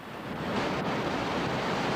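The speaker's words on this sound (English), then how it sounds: "this is it, the put-in for our river trip today. About 16 miles of ferocious whitewater." Rushing whitewater of the Gauley River roars steadily at the rafting put-in below Summersville Dam, a broad continuous wash of water that stays loud and close with no voices over it.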